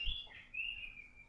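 An Oriental magpie-robin (kacer) gives a brief, faint burst of high whistled chirps, heard alone with no other sounds.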